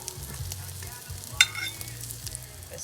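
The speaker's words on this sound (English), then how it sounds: "Sizzle, sizzle, get in my belly." Pieces of food sizzle steadily while frying in a pan on the Mayne Island stove, with a soft continuous hiss under low clattering handling sounds and one sharp brief tap midway.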